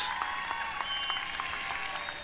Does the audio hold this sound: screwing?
no